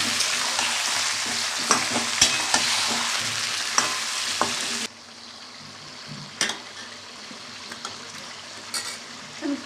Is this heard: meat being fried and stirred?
yes